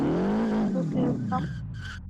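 Car tires squealing in a burnout in the racing game Live for Speed after a brake-then-throttle start, with a rising, howling engine and tire screech, close and loud, fading at the end.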